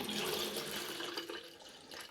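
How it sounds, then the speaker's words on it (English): Film developer is poured into a 35mm developing tank, a continuous soft splashing trickle of liquid, close and fairly quiet. "So I'm just going to pour this into the tank."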